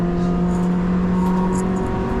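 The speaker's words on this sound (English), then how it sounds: "I do like the sound of these cars." A Citroën DS3 Cup race car engine heard from on board during a race at Oulton Park, a loud steady drone with a strong tonal hum, holding fairly constant revs throughout the short stretch.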